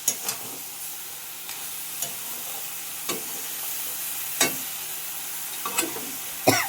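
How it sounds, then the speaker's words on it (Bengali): Curry being sautéed (kosha) in a pan hisses with a constant soft sizzle, punctuated every second or so by brief scrapes and taps of a spatula stirring. "তো চলো এটা কষা হোক"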